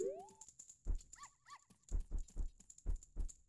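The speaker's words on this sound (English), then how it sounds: "Give me my horse!" Epona, a horse in the video game The Legend of Zelda: Majora's Mask, gives a short synthesized whinny amid repeated clip-clop hoof thuds and a few brief game tones, moderately loud, with no talking.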